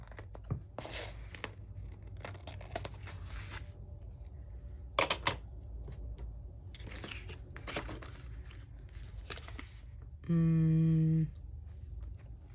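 Scissors trim a paper planner sticker in a quiet room, making several soft, brief papery snips and rustles spaced a second or two apart. A short steady electronic tone sounds near the end.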